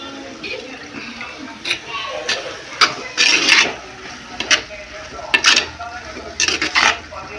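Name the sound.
stirring tomatoes with salt in a cooking pot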